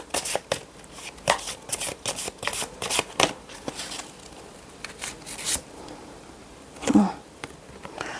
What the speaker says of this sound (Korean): 카드 뽑아볼게요.